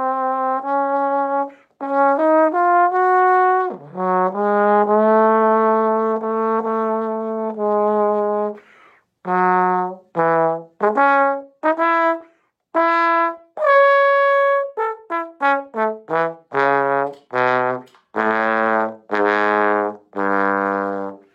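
A brass instrument, likely trombone, plays a slow, expressive solo passage climbing to a very high note, with sustained tones and short phrases separated by breaths, close and alone.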